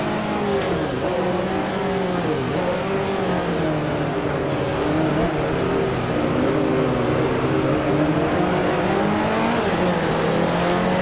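Engines of 1955 Formula 1 Grand Prix cars in the Grand Prix Legends racing game, including a Mercedes, roaring continuously and loudly close by, with pitch rising and falling through gear changes during a French Grand Prix final lap.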